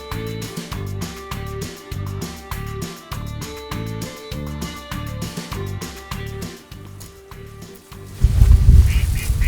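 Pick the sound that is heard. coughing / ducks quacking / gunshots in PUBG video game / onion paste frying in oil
ducks quacking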